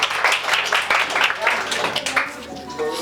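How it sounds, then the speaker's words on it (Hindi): At a coaching school's annual function, the crowd of students claps in bursts of applause that thin out toward the end, with voices talking over and after the clapping. "तालियां हमारे पीयूष सर के लिए।"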